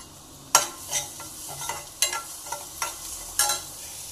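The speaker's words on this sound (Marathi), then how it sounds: "गाजर पण चांगलं फ्राय करून घ्यायचं।" Carrots fry with browned onions for a vegetable soup, with a spatula scraping and tapping in an uneven rhythm over a low, steady sizzle and no speech.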